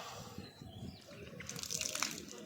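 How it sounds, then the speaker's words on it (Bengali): Water tipped out of a small tub in a home gives a short splashing, trickling pour that builds over the last second, with faint room noise before it. "এবার এর জলটা ফেলি"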